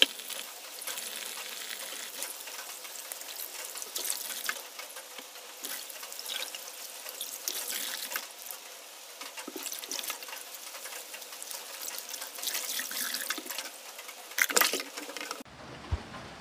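Tap water runs and splashes while Napa cabbage is washed in cold water, a steady hiss with intermittent louder sloshes and handling noises, ending abruptly.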